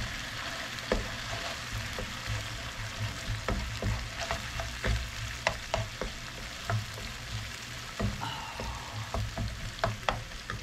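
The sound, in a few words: onions sautéing in frying oil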